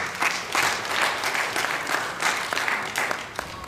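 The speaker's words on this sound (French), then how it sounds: "L'applaudissement bien nourri," Hearty applause from an audience at a regional conference on inclusive education, a dense, steady clapping that carries through the whole moment.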